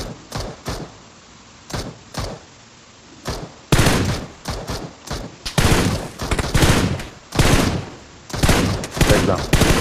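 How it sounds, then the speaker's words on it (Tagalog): Gunfire in the PUBG Mobile battle royale game: scattered single shots, then dense bursts of rapid automatic fire, loud and sharp, with brief quiet gaps between volleys. "Tinitira mo ako ha"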